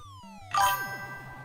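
A stream alert notification plays a bright chiming ding with ringing, tinkly overtones over a soft electronic backing pattern, clear and alone with no voices.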